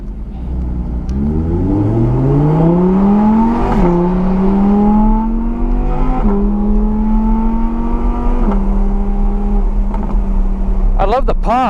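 An Audi R8 V10 race car in a racing game revs hard and loud, its engine note climbing through gears with brief dips at shifts and crackling exhaust pops at the end, with a voice talking over it.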